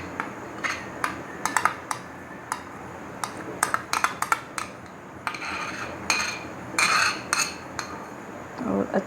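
Cream is stirred in a pan for kunafa, with a spoon clinking and scraping against the metal in quick irregular bursts, close and crisp over a quiet background.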